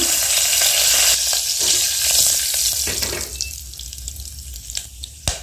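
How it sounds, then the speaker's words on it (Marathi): Mustard seeds splutter and crackle in hot oil with whole spices, cloves, cinnamon, star anise and curry leaves, for vegetable masala rice: dense close sizzling that thins into scattered sharp pops, with no talk. "मोहरी तरतरले"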